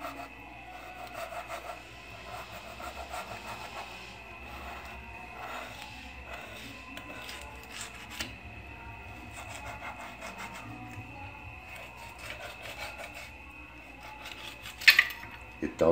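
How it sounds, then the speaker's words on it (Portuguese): A knife scrapes and rasps along the spine of a tilapia during filleting, with soft irregular scratching strokes and occasional clinks of metal on a hard surface, fairly quiet throughout. "Então nós vamos passar a faca bem rente,"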